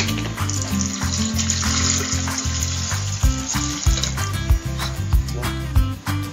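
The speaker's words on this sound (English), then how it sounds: "Put the water on the pitcher." Water from a tap pours steadily into a pitcher while making orange Tang, a close, continuous splashing and gurgling stream with the pitch shifting as it fills.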